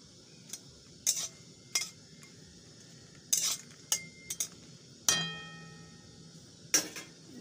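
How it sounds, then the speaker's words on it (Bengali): Dried red chillies get pressed and fried in a pan for mango pickle, with sparse metallic clinks and scrapes of a spoon against the pan over a faint sizzle, close and without speech. "শুকনো লঙ্কা চেপে চেপে ভেজে নিচ্ছি।"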